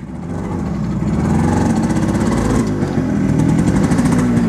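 A modified Yamaha RX 100 two-stroke motorcycle engine runs near and loud, with a rough, steady, buzzing throb that swells slightly and holds, in an alley in Nepal.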